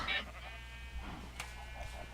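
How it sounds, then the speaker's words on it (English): A Minecraft sheep lets out a short bleat at the start, faint and thin over a quiet low background hum. "He's a good sheep"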